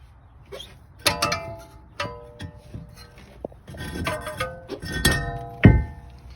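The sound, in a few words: hammer pounding on seized brake rotor of 2018 Lincoln MKX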